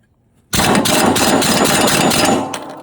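A loud power tool starts abruptly and runs steadily with a harsh, dense whine and rattle, close to the microphone, easing off slightly at the end, while replacing the blades on a Cub Cadet ZT1 mower.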